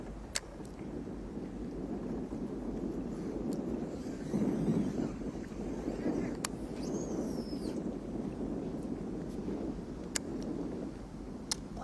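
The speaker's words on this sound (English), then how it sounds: "Probably more wind today than we have seen all week" Steady wind rushes over the St. Johns River during a bass fishing tournament, a continuous low roar buffeting the microphone, with a few faint clicks and no talk.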